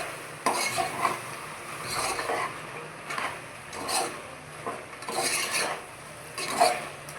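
A large spoon stirs chili powder and salt into mutton curry in a pot, scraping in soft, regular strokes roughly once a second. The sound is fairly quiet and close, with no talking.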